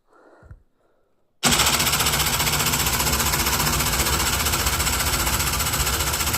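A homemade truck differential driven by a 775 DC motor through an angle grinder gear starts up with a click and then runs as a loud, harsh, rapid gear chatter and motor whine, steady and close for several seconds.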